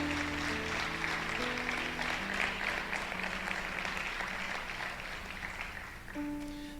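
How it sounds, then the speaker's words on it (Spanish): A church congregation gives a soft, sustained round of applause at a Spanish-language sermon, the clapping fairly distant and faint over held keyboard tones. "Y la iglesia dice, le puede dar un aplauso a la palabra del Señor."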